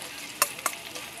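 Chicken pieces with ginger sautéing for tinola, a steady close sizzle of frying with two sharp stir or spatter bursts partway through, no voices.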